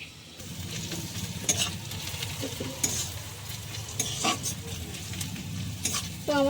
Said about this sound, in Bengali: তো আমি ঢেকে পেঁয়াজটা ভেজে নেবো একটু হালকা করে।